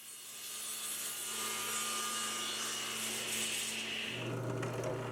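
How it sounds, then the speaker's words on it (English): A saw cuts a 5-degree downward decorative angle along the edge of a Douglas fir tabletop, a steady, fairly quiet whirring drone that holds throughout with a slight pitch shift near the end. "now I'm cutting a 5-degree downward angle on the top as a decorative edge"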